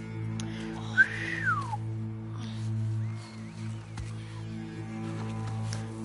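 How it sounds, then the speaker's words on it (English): A character whistles in the video game The Last of Us Part II, a short rising-and-falling whistle heard once over a steady low game ambience hum, with faint distant sounds following. "I didn't get this whistle on the first time."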